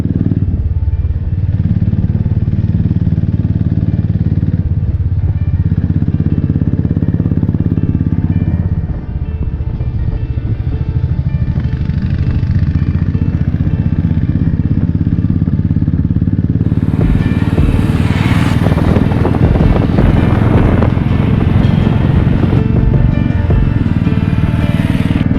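A Royal Enfield Himalayan motorcycle engine drones loudly and steadily while riding high mountain roads near Kardung La, with a constant low rumble and rising clatter and wind toward the end.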